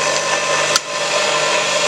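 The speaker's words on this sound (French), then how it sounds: "pour essayer mon alimentation 380, j'ai branché mon petit tour" Small lathe running on a 380 V three-phase workshop supply, a loud steady whirring hum with a brief click partway through, then the motor drone continues unbroken.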